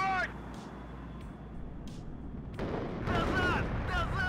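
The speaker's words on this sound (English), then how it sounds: "Maybe we drop some arty on there as well." Artillery strikes in the WARNO strategy game land as a rumbling series of booms, building louder toward the end amid chattering battlefield noise, with speech mixed in.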